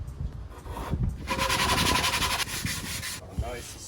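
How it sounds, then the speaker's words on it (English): Sanding on a wooden boat tiller in a boat yard, an uneven rasping and rubbing that swells into a longer steady stroke mid-way, close and fairly loud. "Sanding on the tiller with my new spoke shapes."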